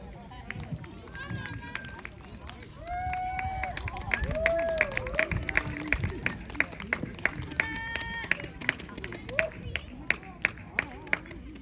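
Audience at a children's pansori concert clapping along in a steady rhythm to the final song, with crowd noise, a loud instrumental or vocal tone, and talk running over the claps.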